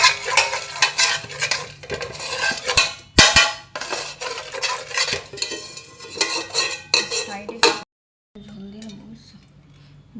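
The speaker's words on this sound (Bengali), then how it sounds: "চামচ টাই করে মাখিয়ে দাও" Biryani being mixed with a metal spoon, with steady scraping, stirring and clinking against the pot for most of the clip, then a brief pause before fainter handling sounds resume.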